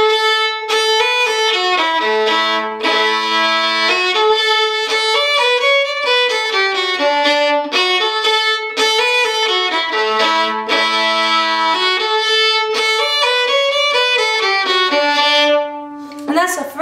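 Solo fiddle playing the first section of the old-time tune Chinquapin Hunting, a bright, lively run of bowed notes with double-stops and drones, close and clear, alone without talk.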